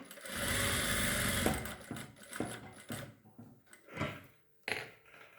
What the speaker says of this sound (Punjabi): ਬਾਕੀ ਤੇ ਆਪਾਂ ਸਲਾਈ ਲਗਾ ਦਾਂਗੇ